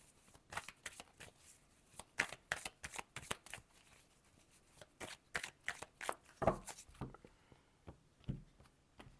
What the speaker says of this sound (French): Je vais la cacher le temps que je brasse les cartes